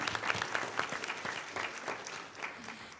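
Applause from the audience at a school board meeting, a burst of many hands clapping indoors that fades slightly toward the end.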